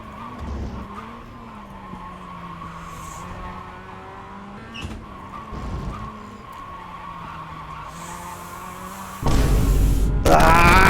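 Mazda MX-5 race car on track, its engine droning and shifting pitch through gears over a lap, tyres scrubbing, with a sudden loud burst of wind and road noise near the end.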